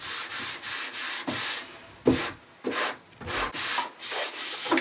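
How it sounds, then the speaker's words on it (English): Sandpaper is rubbed by hand over a mid-century modern wooden nightstand in steady back-and-forth strokes, close up and rasping, with brief pauses between passes. "I'm just giving it a little sand"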